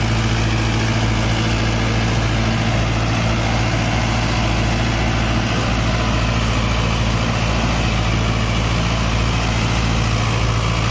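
Mahindra Novo 655 tractor engine running steadily with a 9-foot rotavator attached, a continuous low diesel drone with a strong bass hum that holds level and loud throughout, with no talking.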